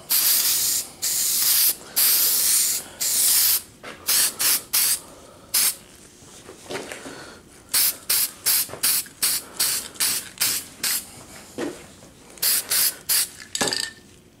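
Cheap primer is sprayed onto a fiberglass Dodge Ram door build in a series of hissing aerosol bursts, some long and some short, with brief pauses between them.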